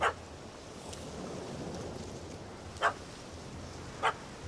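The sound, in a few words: dog barking in The Witcher 3 video game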